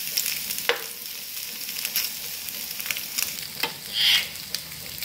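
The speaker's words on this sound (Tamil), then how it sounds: "எண்ணெயில் போட்டு லேசாக ரோஸ்ட் பண்ணி அப்புறம் போடுங்க" Boiled eggs fry lightly in hot oil for egg biryani, giving a soft, continuous sizzle with occasional stirring taps and a brief louder hiss, heard close with no talking.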